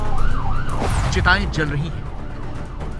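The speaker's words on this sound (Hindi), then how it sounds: "यह दिल्ली का सबसे बड़ा शमशान घाट निगमबोध है और यहां हर तरफ एम्बुलेंस दिख" An ambulance siren wails steadily at Nigambodh Ghat, Delhi's largest cremation ground, during the COVID outbreak, while a man reports over it in Hindi.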